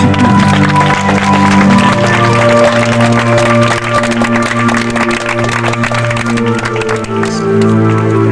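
Crusade congregation at an evangelistic gathering in Aboisso, Côte d'Ivoire, cheering and applauding loudly and continuously, a dense crowd roar layered with sustained music.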